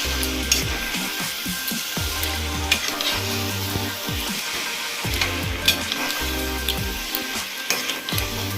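Chicken cooking in masala for biryani sizzles steadily in the pan, with repeated scraping stirs and occasional clinks of the spoon against the pot, close and continuous with no talking.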